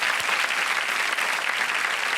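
Studio audience applause on a televised quiz show set, a dense, steady wash of clapping filling the whole stretch at even loudness with no talk over it.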